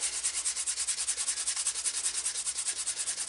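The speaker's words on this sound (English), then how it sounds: "I probably should spend a little more time sanding on these." Worn sandpaper is rubbed steadily along a leather edge in quick, even back-and-forth strokes, a close, rasping scratch with no talk over it.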